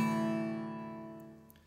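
Guitar strummed open in an altered tuning for a song, a single ringing chord that sustains and slowly fades, with a couple of faint small noises near the end.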